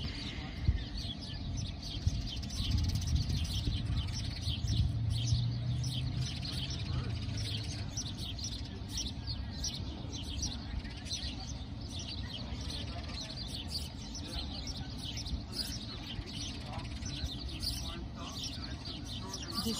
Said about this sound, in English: For sure there are babies there. Chicks.